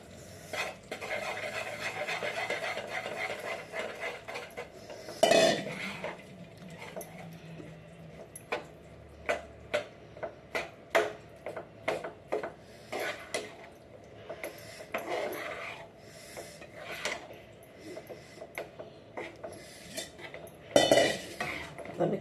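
Sesame filling is stirred into melted jaggery in a pan off the heat, with repeated scraping and metallic clinks of a spoon against the pan, close and moderately loud, over a long stretch.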